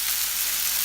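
Tomatoes and okra fry in a pan for bhindi bhaji, giving off a steady, close hiss of sizzling oil that stays even throughout the short moment.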